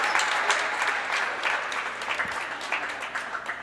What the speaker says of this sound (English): Gets a hand from the crowd.